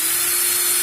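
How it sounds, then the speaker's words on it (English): A cordless drill spins in reverse twisting clapton coil wire, giving a steady, close whirring motor whine with a bright hiss, unbroken throughout. "I'm going to put my drill in reverse, do a 3 count while I hold this wire"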